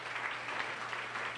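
A church congregation claps together in a steady wash of applause, moderately loud and even across the brief moment, with a low hum underneath and no voices.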